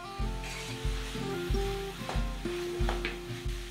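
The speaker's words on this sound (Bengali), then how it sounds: "মশলার সঙ্গে চিকেনটাকে খুব ভালো করে কষাতে থাকছি।" Cooked chicken tossed with spices in a pan for chicken bhorta, a rhythmic series of heavy spatula scrapes and knocks against the pan, roughly every half second, over a light sizzle, close and without talk.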